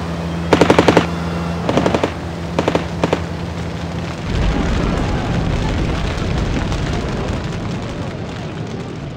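Wartime gun camera footage of P-47 Thunderbolt fighters firing machine guns, heard as several short rapid bursts of gunfire spaced apart, followed by a loud continuous roar of noise, with no voices.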